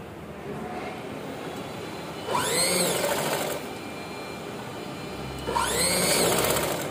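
A sewing machine stitches the seam of a long boat-neck frock in two bursts of steady, fast mechanical whirring, separated by a quieter pause with faint room noise.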